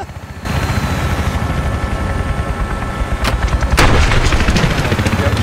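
A Huey helicopter's rotor drone in a Battlefield 3 battle, with a sustained roar under sharp gunfire cracks and a couple of loud close bursts.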